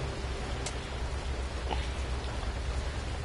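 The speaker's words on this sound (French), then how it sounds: "Il pleut, hein." Steady rain falls outdoors at a bus stop near a coach, a continuous broadband patter with low rumble beneath and a few brief drop clicks, no talk.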